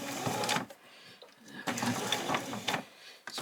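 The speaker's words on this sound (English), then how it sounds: "So go on, do a back stitch." A sewing machine back stitches on an apron in short mechanical bursts, stopping and restarting, with a person talking in between.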